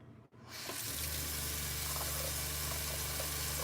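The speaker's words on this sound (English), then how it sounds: "Listen to the pump." An RV's onboard water pump starts up while the tap runs, a low steady motor hum settling in under loud rushing faucet water after a brief quiet moment at the start.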